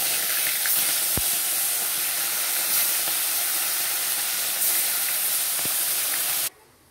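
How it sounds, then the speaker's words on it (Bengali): Tilapia fish frying in hot oil in a wok gives off a loud, steady sizzle with a few sharp pops, close by, before it cuts off abruptly near the end. "এবার আমি মাছগুলো ভেজে নেবো।"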